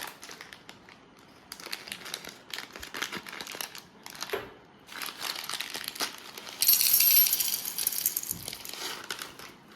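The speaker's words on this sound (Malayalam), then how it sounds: "ഇനി നമ്മൾ ഈ കൽക്കണ്ടം കവറിലേക്ക് നമുക്കിത് കട്ട് ചെയ്ത് ബൗളിലേക്ക് ഇടാം" Rock sugar cut from its plastic packet and dropped into a bowl: crinkling plastic rustles and scattered small clicks and clatters of hard crystals, close and intermittent, ending in a denser burst of rattling.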